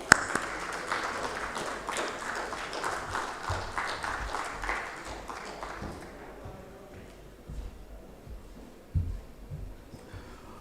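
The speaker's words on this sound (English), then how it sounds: "So with a huge round of applause, let's welcome on stage Mr. Suresh Soni, everyone." Audience at an annual market outlook event applauding as a speaker is welcomed on stage, steady clapping for about six seconds that thins out into a quiet hall with a few thumps.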